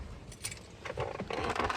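A bunch of metal keys on a keyring jangles and clinks in a few quick, close bursts, bright and rattling, with no talk over it.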